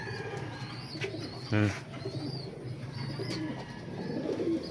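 Pet racing pigeons, silver and white, coo softly around the loft. Their low calls repeat under steady background noise and other bird sounds, with one louder burst near the middle.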